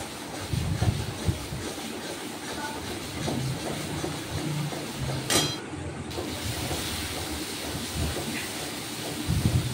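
Masala for an eggless egg korma fries in oil in a pan over a medium gas flame, giving a steady broad sizzling hiss with scattered crackles at moderate loudness.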